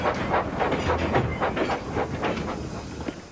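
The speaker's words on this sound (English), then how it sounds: "Edward picked up steam and proudly puffed past Spencer." A steam locomotive puffs steadily along the track in an animated railway setting, its rhythmic chuffs and hissing exhaust beats repeating at a brisk, even pace with a faint clickety-clack of wheels underneath, no voices present.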